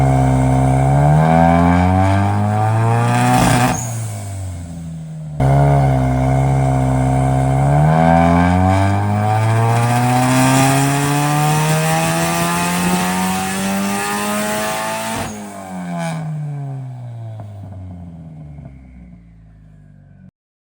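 Nissan S14 with a new clutch driving hard, engine revving up through gears with rising pitch, a quick shift break, then a long pull before lifting off and fading away, loud and close.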